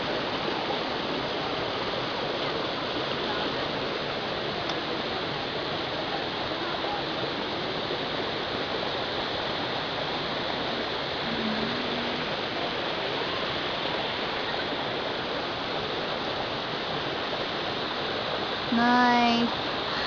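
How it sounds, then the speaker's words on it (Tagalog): Mantayupan Falls pours with a constant, full roar of rushing water that stays even throughout, and a brief voice calls out faintly near the end. "Yan ako pakita ang current. Current of water."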